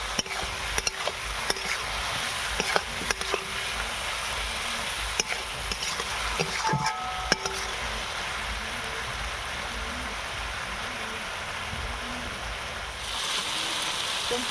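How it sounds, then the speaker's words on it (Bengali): Ground spices with salt being stir-fried in a pan for a fasha fish curry, a continuous hissing sizzle with occasional spatula scrapes and taps, fairly quiet and steady, no voices. "এই সমস্ত একসঙ্গে ভালো করে কষিয়ে নিতে হবে।"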